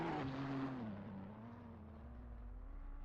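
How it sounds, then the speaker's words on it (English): A GT3 race car engine in a racing video game at Oschersleben runs out of fuel, its tone sagging and dropping in pitch as it cuts out and settles into a lower, fading drone. "that's the familiar sound of an engine cutting out"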